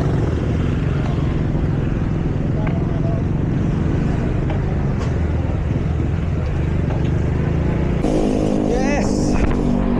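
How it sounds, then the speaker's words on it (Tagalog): Road traffic rumbles steadily around a cyclist on a Sunday group road ride, a constant broadband drone of engines and tyres with a brief horn-like tonal burst near the end. "Traffic, grabe."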